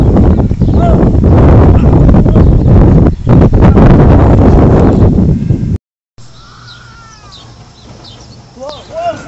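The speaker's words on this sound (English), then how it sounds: "Fucking wind!" Strong gusting wind buffets the microphone in loud roaring bursts, with a person exclaiming repeatedly, then drops to a quieter outdoor scene where birds call.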